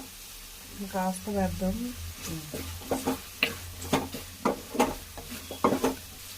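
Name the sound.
stirring chicken curry with turmeric in a frying pan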